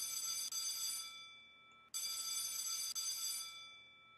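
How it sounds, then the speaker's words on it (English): A cartoon school bell rings in two long, bright, metallic bursts with a short gap between them, each trailing off, at fairly low volume. "Sounds like that was the school bell."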